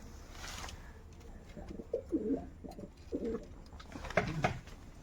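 Pigeons coo softly nearby in a few low, throaty phrases, with quiet ambient noise in between.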